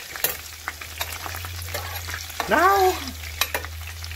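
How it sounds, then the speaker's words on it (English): Onions fry in a pan under a splatter guard, with scattered spits and stirring clicks over a low steady hum, while someone briefly speaks in the middle. "I put a splatter guard because that grease was splattering up and hitting my face"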